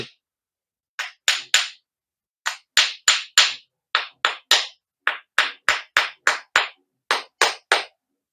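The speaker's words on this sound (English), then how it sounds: "I'm just going to tap it with my screwdriver again and see what happens." A screwdriver taps a metal Briggs & Stratton carburetor float bowl again and again, sharp close clicks in uneven bursts with short pauses between.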